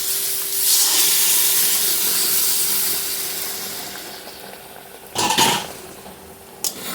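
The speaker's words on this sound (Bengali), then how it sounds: "সবজিটার মধ্যে এখন ডালটা দিয়ে দেব" Cooked mung dal is added to boiled mixed vegetables in a pan, a steady sizzling hiss that slowly fades, followed by two sharp clanks of utensils against the pan.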